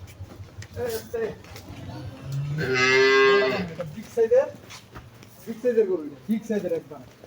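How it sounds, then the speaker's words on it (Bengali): A big Holstein Friesian heifer lows once, loud and close, in a drawn-out moo of about a second while being walked. Someone talks before and after the call. "গরু এটা বিগ সাইজের গরু, বকনা, কেবল বকনা দর্শক।"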